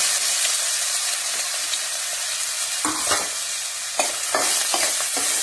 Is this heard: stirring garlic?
yes